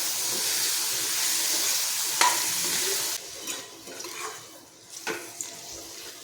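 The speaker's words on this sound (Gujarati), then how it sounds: "ટામેટાને આપણે ચડવા દઈશું" Chopped tomatoes with salt sizzle in hot oil for a Kathiyawadi dhaba-style sev tameta curry, a steady frying hiss that drops after a few seconds to a softer simmer with occasional stirring clinks.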